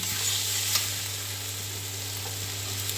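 Softened mustard greens sizzle steadily as they fry in a pan, a continuous close hiss with faint crackles throughout and no talking.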